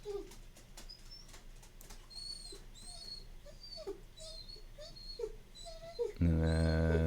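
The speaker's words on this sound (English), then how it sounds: "sorry about my dog. He's not feeling well." An old, sick dog whimpers close by in a quiet room, giving repeated high, thin whines and soft whimpers, before a loud steady hum cuts in at the end.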